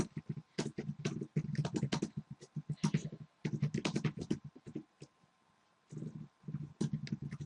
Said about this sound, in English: I'm gonna go ahead and just like type this up